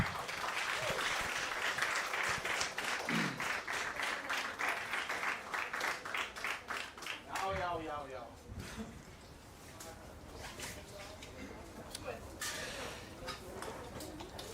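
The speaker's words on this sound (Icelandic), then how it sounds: "Gefum henni gott klapp." Audience clapping for a bench press medalist at a competition, loud steady applause for about eight seconds that thins out, with a voice speaking over the tail end.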